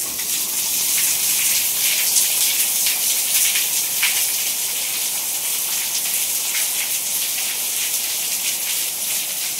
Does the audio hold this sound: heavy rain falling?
yes